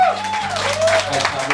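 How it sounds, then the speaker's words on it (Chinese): Brief burst of audience applause at a live band concert, mixed with a voice speaking and sustained musical tones. "给苏老拍手一下"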